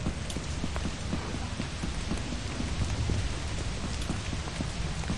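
Steady heavy rain pours in the video game Lethal Company, a dense continuous hiss with scattered patters and a low rumble, close and even throughout with no voices.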